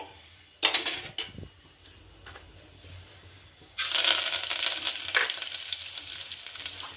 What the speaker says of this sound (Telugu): తాలింపు గింజలన్నీ వేసుకుంటానండి